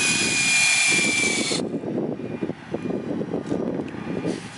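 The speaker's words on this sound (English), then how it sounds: "Then we'll go back in the same hole and add an extension and get our second depth drilled." A power drill drives a forage sampling probe with an extension into a silage pile, a loud steady whirring burst for about a second and a half that then drops to a rougher, fluctuating low churning grind.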